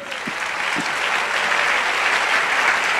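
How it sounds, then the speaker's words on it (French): A church congregation applauds together, a steady wash of clapping from many hands that holds at an even level throughout, with no speech over it. "Acclamons la parole."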